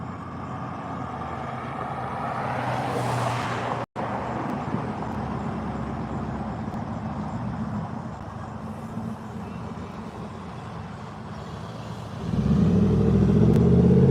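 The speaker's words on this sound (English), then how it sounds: "We got cars going every which way over here right now." Cars and trucks passing on a busy road, a continuous roar of tires and engines with a brief dropout partway through, and a heavier, louder vehicle rumbling near at the end.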